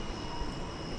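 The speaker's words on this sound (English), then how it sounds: "do see the Korean Air 747 now in the skies to the west of us." Korean Air Boeing 747 airliner flying in the skies near DFW Airport, a steady, distant broadband engine roar holding at an even level throughout, with no talk over it.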